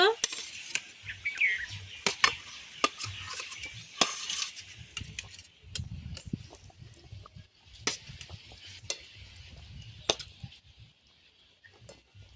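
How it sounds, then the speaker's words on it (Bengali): Chicken pieces going into a pot of boiling biryani gravy and being stirred, with spoon scrapes and clinks against the pot, soft bubbling and brief knocks scattered through the stretch. "খুব ভালো করে গ্রেভি ফুটে গেছে, দিয়ে দেব মাংস।"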